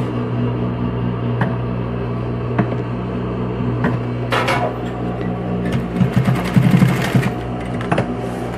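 A sewing machine runs steadily while stitching a securing seam on a fabric bag organizer, its motor hum continuous throughout, with a few brief clicks and a louder burst of rapid needle strokes near the end.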